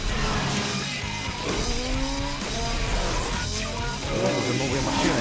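Supercar racing in Need for Speed Hot Pursuit, with continuous engine roar, tire squeals and skidding filling the clip at steady loudness.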